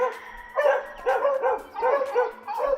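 Dogs bark repeatedly in an irregular series of yips and woofs at middle distance, with no talk over them.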